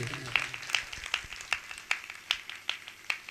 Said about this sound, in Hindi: एक बार ताली बजा दो मेरी माई के लिए